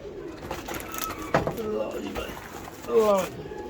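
Pigeons cooing close by in soft repeated bursts, mixed with handling noises and a brief clunk, while people talk nearby.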